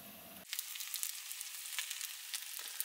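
A breakfast fry-up sizzles in a pan at a campsite, a bright, close, continuous crackling hiss that starts abruptly and keeps popping steadily with no voices.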